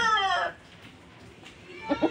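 A rooster gives a loud clucking call, then after a short pause two quick clucks follow, close by.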